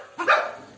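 A single dog at a dog shelter gives one sharp, close bark that trails off quickly, loud against a low background hum.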